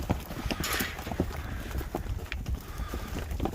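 Cows walking in single file, with their hooves clopping irregularly close by amid rustling and strong wind buffeting the microphone.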